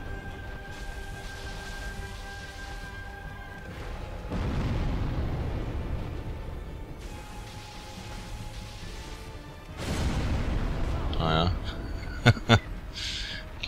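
Dark Souls game sound effects on PS3 with deep rumbling explosion blasts and roaring bursts, ending in a few sharp pops, loud and layered over a constant background hum.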